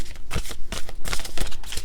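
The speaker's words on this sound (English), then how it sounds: "It's a difficult deck to shuffle." A Wild Unknown tarot deck is shuffled by hand, a close, quick run of papery riffling flicks and soft slaps that lasts under two seconds.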